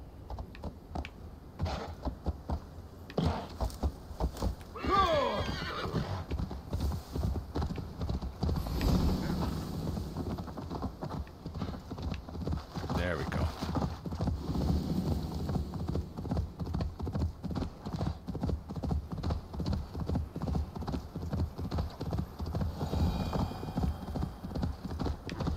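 Rhythmic horse hoofbeats in Assassin's Creed Valhalla clip-clop along at a walking pace with occasional snorts and scuffs, fairly close, continuing throughout with a few brief louder bursts.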